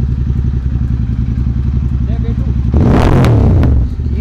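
A Royal Enfield Continental GT 650 fitted with a loud Gursewak aftermarket exhaust idles with a deep, rapid thumping beat, then roars louder as the throttle is blipped near the end, close up.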